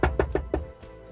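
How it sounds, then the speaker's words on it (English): Four quick, evenly spaced knocks rap on a door in the Magical Diary game, a rapid beat of close, solid thuds followed by a faint trailing fifth tap. "I'm woken Monday morning by someone knocking on our door, not hammering, just knocking, but at a rapid beat."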